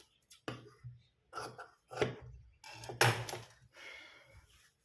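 Scissors cutting away extra cloth during stitching, a handful of close crisp snips and rustles in short separate bursts, with no talk.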